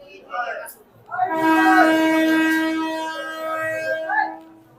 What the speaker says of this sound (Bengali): এই মুহূর্তে আবার ট্রেনও চলে আসছে